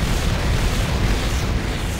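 Grenade blasts in the modded video game Factorio, a dense, continuous rumbling boom of overlapping explosions that stays loud from start to finish.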